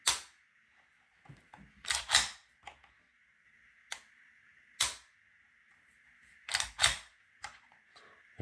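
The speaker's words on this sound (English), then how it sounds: "Now we'll do a trigger pull." A SAR K12 Sport pistol, fitted with polished internal parts and a Galloway spring kit, dry-fired with a few sharp, dry mechanical clicks spaced out over several seconds, close and isolated in a quiet room.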